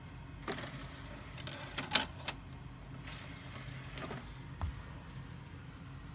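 A Dell Dimension B110 optical drive reads a Windows XP disc. It gives a faint whirring hum broken by scattered soft clicks and ticks as it seeks.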